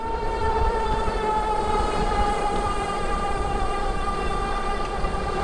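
A Specialized Globe Haul ST electric cargo bike motor whines steadily at about 17 to 18 mph, a continuous tonal hum with road noise beneath it and no voices.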